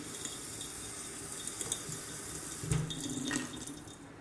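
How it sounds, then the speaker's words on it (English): A kitchen sink faucet in an empty apartment runs a weak, low-pressure stream of water, a soft steady trickle that swells slightly near the end. "Just above is the sink with a faucet that pours a low-pressure stream of water."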